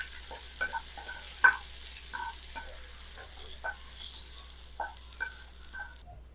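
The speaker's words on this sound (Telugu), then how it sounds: "ఇలా ఫ్రై చేసుకొని పక్కన పెట్టుకోవాలి" Tomatoes and onions fry in oil in a pan, with a quiet sizzle and intermittent scraping of a spatula as they are stirred, close and fairly soft.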